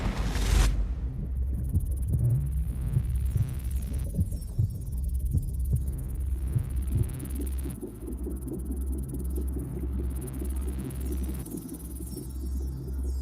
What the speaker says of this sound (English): these are kind of percussive and pulsing sound design elements